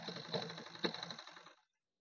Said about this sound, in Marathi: त्याच्यानंतर आपल्याला इथून अशी शिलाई करून घ्यायची आहे